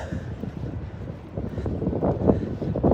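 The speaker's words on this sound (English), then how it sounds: "Windy again." Gusty wind buffets the microphone in low, rumbling bursts that build toward the end, with no talking.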